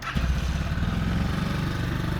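A Xunjie motor vehicle's engine idling close by, a steady rapid low putter that runs evenly throughout.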